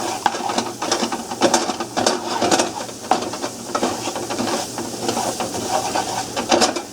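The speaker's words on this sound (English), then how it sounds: "So I'm going to saute this down till my mushrooms are pretty much." Salted mushrooms sauté in a pan, a close hiss and sizzle broken by frequent clicks and scrapes of stirring, with no talking.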